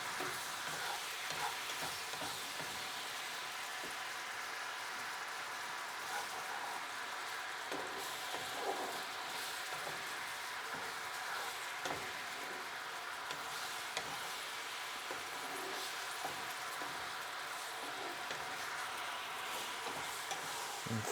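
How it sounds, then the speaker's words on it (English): King prawns stir-fry in a pan with a constant dense sizzle, steady and moderately close, with faint scraping stir strokes throughout and no voices. "we're going to add the king prawns. I'm going to stir it"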